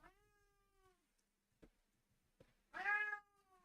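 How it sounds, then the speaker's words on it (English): A house cat meows several times indoors: a long drawn-out cry, a brief pause with soft clicks, then a louder, strained caterwauling meow, close and clear in an otherwise quiet room. "Nope. Quiet cat."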